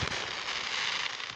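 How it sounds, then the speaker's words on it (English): Fireworks bursting on the 4th of July on a foggy night, a dense continuous crackle and rumble of firecracker-style pops, steady and fairly loud with no talking. "There's a fireworks going off."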